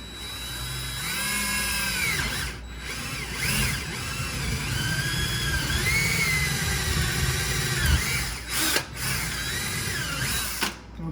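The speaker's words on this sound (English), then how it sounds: "I'm going to just drill a hole" Power drill boring a hole through the floor for a refrigerator ice maker water line, a steady close-up whine with pitch sweeps as the bit loads and eases, running almost continuously for about eleven seconds with a few brief pauses and no talking.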